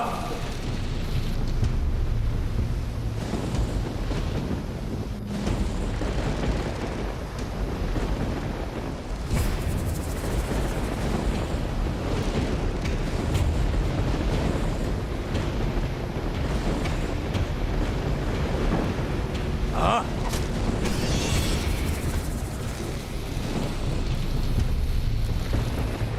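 Rolling, rumbling thunder with wind and rain-like noise in the fantasy role-playing game Risen, a continuous loud roar throughout with a brighter crack near the middle, no talking.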